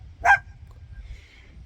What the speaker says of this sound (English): you're probably hearing my wife's dog barking in the background